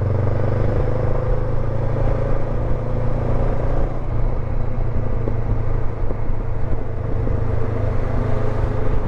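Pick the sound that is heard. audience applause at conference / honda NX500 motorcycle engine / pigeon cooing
honda NX500 motorcycle engine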